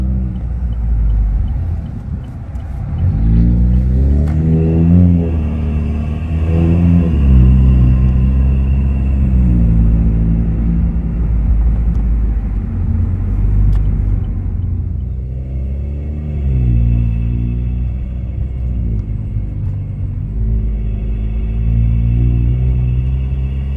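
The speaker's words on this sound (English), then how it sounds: "Car drives like a monster, man." A Chevy Cruze's engine rumbles steadily from inside the moving car, a deep low drone that swells and eases as it drives, with no talking.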